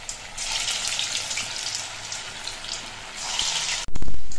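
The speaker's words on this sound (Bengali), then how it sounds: "এবার কয়েকটা করে কোপ্তা একসঙ্গে দিয়ে ভেজে নিচ্ছি।" Papaya koftas fry a few at a time in hot white oil in a kadai, giving a steady hissing sizzle that stays even and close before a sudden loud clunk near the end.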